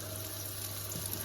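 Raisins roast in hot ghee in a pan, a steady, soft sizzle of frying with a faint hum underneath, continuous and even throughout.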